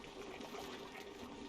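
Water poured out of jugs in the game Oxygen Not Included, a faint, steady trickling wash that runs unbroken for about a second and a half.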